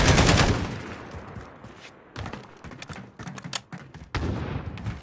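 Rapid bursts of gunfire in a video game shootout, dense loud volleys at the start and end with choppier shots between, close and without talk.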